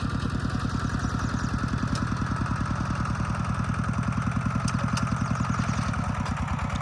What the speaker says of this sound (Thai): รถเครื่องคูโบต้า